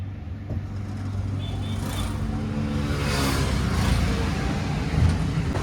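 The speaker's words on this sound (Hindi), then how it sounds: "TVS किंग EV मैक्स है ना सिटी मोड में काफ़ी बेहतरीन चलता है यार" A TVS King EV Max electric auto-rickshaw cruising in city mode, giving a steady low road rumble and hum throughout with no engine revving, close and continuous.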